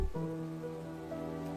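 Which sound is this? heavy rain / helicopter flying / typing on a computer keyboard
heavy rain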